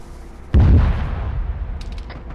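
Heavy suppressive gunfire in Arma 3 during a platoon training session: a loud close burst of blasts and booms, then a dense rolling rattle of shots continuing at a steady level, with a few sharp cracks near the end.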